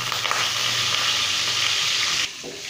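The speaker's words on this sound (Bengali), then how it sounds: "এবার আমরা এটাকে একটু সামান্য ফ্রাই করে নেব" Eggs frying with turmeric in a pan for dim posto give a loud, steady, close sizzle that runs unbroken and then drops in level near the end. No one speaks.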